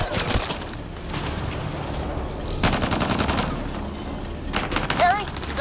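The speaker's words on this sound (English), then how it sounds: "Just keep firing!" Sci-fi firefight in Mass Effect: Andromeda, with rapid gunfire bursts and booming shots crackling through a dense battle mix, loud throughout, while voices shout over the combat.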